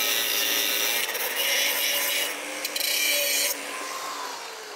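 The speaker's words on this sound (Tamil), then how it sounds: "அதை நம்ம ஒட்டை வந்து கட் பண்ணி எடுத்துக்கலாம்" A bicycle frame's axle bolt slot being cut off, giving a steady, close rasping and sawing noise for about three and a half seconds before it eases to a quieter scrape.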